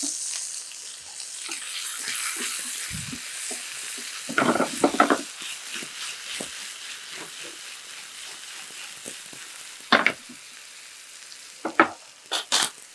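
Chopped tomatoes go into a pan of frying potatoes and are stirred in, a steady sizzle with scattered scraping and stirring clatters, moderately close, no talk.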